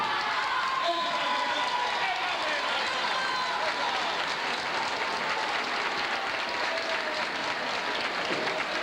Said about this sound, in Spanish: el aplauso para vosotros